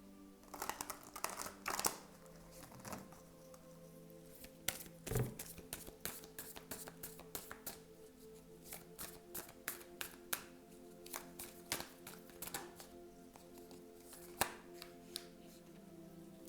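Tarot cards are shuffled by hand in a quick, close run of crisp slaps, taps and papery riffles that continues steadily throughout, with no talking.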